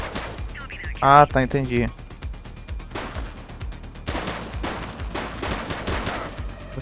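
Gunfire in the police video game The Precinct, with rapid repeated shots running through the clip beneath game dialogue and a player talking in Portuguese, with a louder burst of voice near the start.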